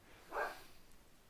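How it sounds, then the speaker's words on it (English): A single faint dog bark, brief and distant, over quiet background noise. "This is why I heard barking."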